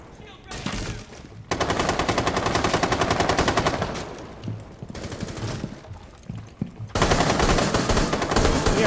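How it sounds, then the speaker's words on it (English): Light machine gun fire in Rainbow Six Siege, long sustained automatic bursts broken by pauses with scattered single shots, loud and close throughout. "I got a light machine gun."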